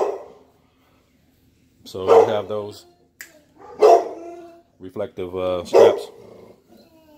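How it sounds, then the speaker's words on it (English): Dogs bark and growl in several loud close bursts spaced a couple of seconds apart, with someone talking between and over them indoors. "Excuse the dogs."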